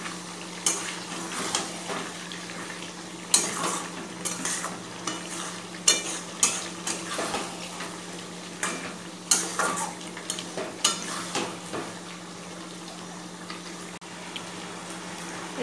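Mutton curry with potatoes and fat being stirred in a pot: repeated loud scraping strokes of a spoon against metal over a low simmering sizzle, close and rhythmic.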